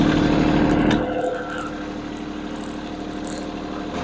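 A snowblower engine runs steadily after being started, with a dense mechanical roar that eases slightly after the first second and then holds a constant idle-like drone, with no talking.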